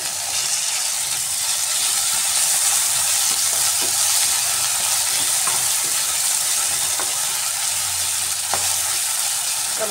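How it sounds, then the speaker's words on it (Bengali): Chopped tomatoes fry with onion, ginger and garlic in a pan for spinach dal tadka, making a loud, continuous sizzle with occasional stirring scrapes and light clicks throughout. No voices are heard. "এবার আমি দিয়ে দিচ্ছি কেটে রাখা টমেটো"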